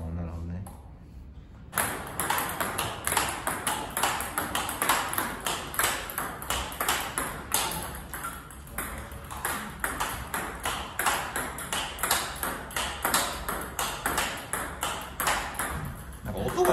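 Table tennis ball struck repeatedly with a paddle fitted with XIOM Omega VII Tour i rubber, a soft-sounding rubber, giving a steady rally of sharp pings during indoor practice, with coaches talking underneath.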